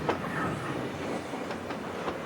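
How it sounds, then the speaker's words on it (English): An 85-car freight train hauled by AC and SD40 locomotives rolls past on a steep mountain mainline, a steady rumble with occasional light wheel clicks, moderately close. "This long train of 85 cars actually took over 3 minutes to pass this location"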